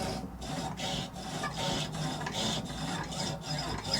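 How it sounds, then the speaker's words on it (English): A foot-pedal powered saw cuts pearl inlay with a fine, rapid rasping buzz that rises and falls in short pulses as the piece is turned. The sound is close and fairly quiet, with no talking. "You put it on here just like a jigsaw, and you start to cut."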